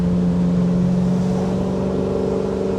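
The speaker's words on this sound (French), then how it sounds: "Le son du V8, c'est quand même un truc à part" The V8 of a 1964 Corvette drones steadily at high revs while driving in fourth gear, a loud, close, sustained engine tone with no voices.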